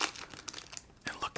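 A crinkly candy wrapper, around a hard toffee-like sweet, is torn open in a few quick, close crackling rips, with short gaps between them.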